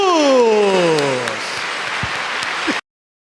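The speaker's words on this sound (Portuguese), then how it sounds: "Toma posse desta pregação, aplaudindo a Jesus." A congregation at a family Mass breaks into sustained, dense applause that fills the room, overlapping a voice at first and then cutting off abruptly.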